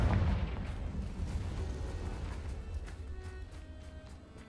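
Blasting-spell explosions cast during combat in Hogwarts Legacy, a booming burst up front that rolls off into a dense, rumbling low-end roar with faint crackles, fading slowly over several seconds.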